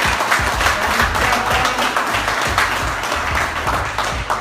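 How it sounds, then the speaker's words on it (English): Banquet crowd applauding an honoree after a gold finish, steady dense clapping filling the room throughout with a few louder claps standing out and faint voices underneath. "Let's give him a round of applause."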